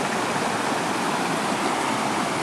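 Creek water flowing through Spearfish Canyon in South Dakota, a loud, continuous broadband rush of running water heard up close, steady and unbroken with no voices.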